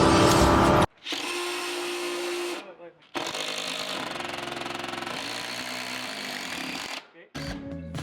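A power saw cuts a bird's mouth notch into a wooden porch beam, running loud and steady in two long bursts with brief pauses between them, then restarting at the very end.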